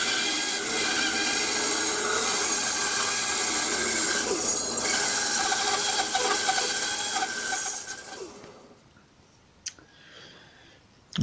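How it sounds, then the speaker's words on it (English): A bandsaw rips through an Iroko wood blank, rounding it for a clock's central piece. A loud, steady, dense rasp runs for about eight seconds and then drops away to quiet workshop noise with a few faint knocks. "Here I'm cutting the central blank, it's a piece of Iroko, whipping that into a rough round on the bandsaw."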